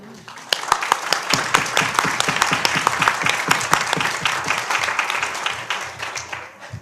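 Audience applause fills a municipal council meeting room: sharp individual claps thicken into a steady round from a modest crowd, then thin out slightly toward the end, with some voices underneath.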